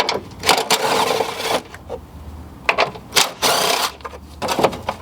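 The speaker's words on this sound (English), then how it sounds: "Just pretty much get yourself a ratchet and a socket and take them off." A ratchet and socket remove bolts on a 2004-2008 Ford F150 during AC drier replacement, with bursts of rapid ratcheting clicks in several close, repeated spells separated by short pauses.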